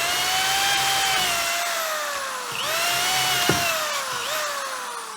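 A power drill bores through a wooden guitar body blank with a loud, continuous whine that dips in pitch under load a few times, with a brief sharp crack midway; no talk.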